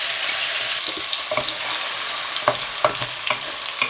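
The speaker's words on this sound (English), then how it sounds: "So we're gonna add onions in there." Onions dropped into hot oil crackle and sizzle loudly at first, then settle into a hiss broken by quick scraping stirs and small spattering pops.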